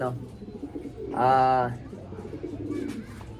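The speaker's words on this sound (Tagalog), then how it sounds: "Ito na young bird ng PPCP." A young racing pigeon gives a single soft, throaty coo at close range, heard over a low background murmur, with some talking around it.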